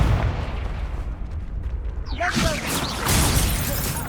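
An Accio spell cast in Hogwarts Legacy, a rising whooshing magical surge with shimmering, crackling bursts that swells midway through over a busy rumbling background.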